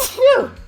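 A single close sneeze bursts out sharply and fades within a fraction of a second, alone with no other sound around it.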